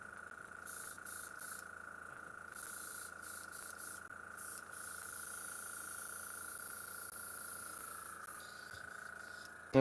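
Harder & Steenbeck Squidmar Ultra airbrush spraying paint, a steady close hiss of air that runs without pause, broken by a few brief gaps and changes in strength.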